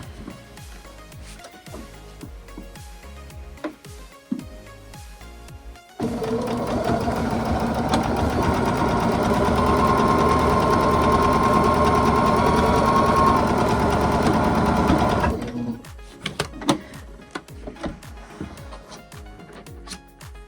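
A sewing machine stitches a quilt block in one continuous steady run of about nine seconds, loud and close, with quieter handling and fabric noises before and after.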